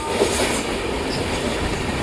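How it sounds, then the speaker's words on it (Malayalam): The Sabari Express runs on from Thrissur toward Aluva, a steady loud rumble and rush of the moving train heard from inside a carriage, with no voices. "അങ്ങനെ തൃശ്ശൂരിൽ നിന്ന് നമ്മുടെ ട്രെയിൻ എടുത്തിട്ടുണ്ട്"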